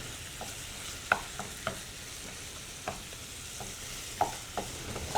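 Juicy 80/20 ground beef browns in a pan, a continuous sizzle with occasional sharp pops and scraping stirs, close and alone without talk.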